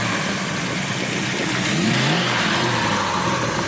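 A car with an HKS RB28 stroker engine drives and revs hard. The engine note is loud and close, climbing through a clear pitch sweep in the middle of the stretch over a constant roar, with no voices.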